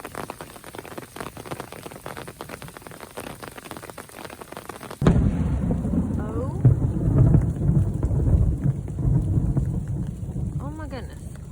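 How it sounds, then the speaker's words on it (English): Heavy rain patters hard during a thunderstorm on a Florida trail, then a loud, close crack of thunder breaks out and rumbles on beneath the downpour, with a voice speaking faintly at points. "there was just a big flash of lightning and some cracks"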